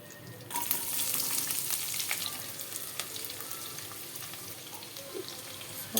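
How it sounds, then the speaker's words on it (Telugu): Chopped onions frying in hot oil with mustard seeds, cumin and curry leaves, a steady close sizzle that flares up after a quiet start, with occasional stirring clinks and no talk. "సో ఇప్పుడు మనం ముందుగా కట్ చేసి పెట్టుకున్న ఆనియన్స్ వేసుకుంటాం."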